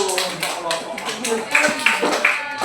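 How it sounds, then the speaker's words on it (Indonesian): Students clapping in a high school classroom, scattered claps and taps mixed with voices talking over them, close and uneven across a few seconds. "Tepuk tangan dulu"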